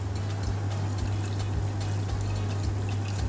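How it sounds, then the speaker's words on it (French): Water is poured steadily into a pot of breadfruit migan, a close, continuous splashing trickle over a low hum, with no talking. "je te laisse mettre l'eau."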